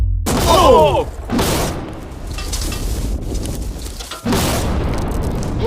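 A huge TNT blast blowing up a safe: a loud, sharp explosion followed by a long rumbling roar and debris, then a second heavy burst near the end.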